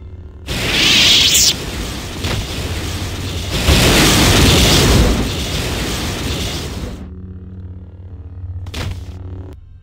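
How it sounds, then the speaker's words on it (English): A loud explosion rumbles at the main behavior core in Star Wars Knights of the Old Republic 2, a broad roaring blast swelling twice over several seconds before cutting off, followed by a faint mechanical hum and a brief sharp crack. "There has been an explosion at the main behavior core."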